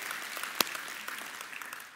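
A church audience claps in steady applause, a dense, even patter of many hands close by that carries on without voices over it.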